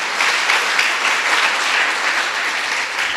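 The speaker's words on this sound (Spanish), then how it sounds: "Denle un fuerte aplauso al Señor Jesucristo" A church congregation applauds strongly during a Spanish-language sermon, a thick, continuous wash of clapping at full volume throughout.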